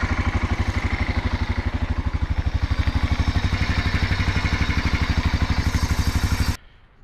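A Yamaha Rhino side-by-side's engine runs in a steady, loud, rhythmic chugging pulse for several seconds, then cuts off abruptly near the end.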